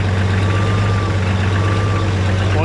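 An Oliver 1650 tractor engine idles steadily at about 1,000 RPM, a loud, constant low rumble with no breaks and no talking.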